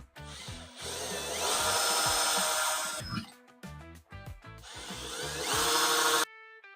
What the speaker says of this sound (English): we're going to go ahead and get into drilling holes